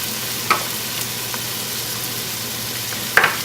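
Leeks and minced garlic sizzle steadily in a pan, with a soft continuous hiss and a couple of sharp clinks or stirring knocks standing out; no talking.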